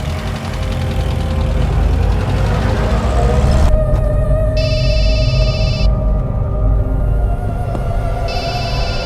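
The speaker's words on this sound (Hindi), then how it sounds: "किसका फोन है मोहन?" A telephone rings in repeated electronic bursts over a steady engine-like hum with background noise, no voices heard.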